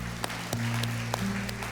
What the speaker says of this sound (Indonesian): Kita tepuk tangan buat Tuhan.